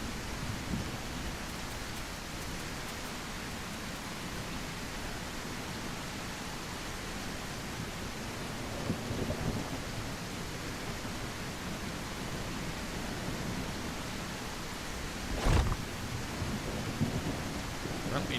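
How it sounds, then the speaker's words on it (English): A video game thunderstorm fills the scene with a dense, steady hiss of heavy rain and low rumbling, broken near the end by one sharp, loud thunder crack. "It's oppressively loud, but Jesus, cool with thunderstorms and lightning."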